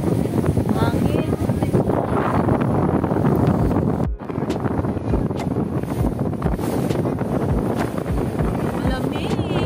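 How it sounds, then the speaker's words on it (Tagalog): Strong wind buffeting a microphone on a boat ride, loud continuous roaring gusts with a brief dip midway. "Hangin."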